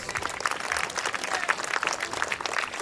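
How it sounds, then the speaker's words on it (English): A crowd of parents and spectators applauds at a children's school sports day, a continuous fairly distant patter of many hands clapping with scattered cheers. "Cheer our kids with a big round of applause."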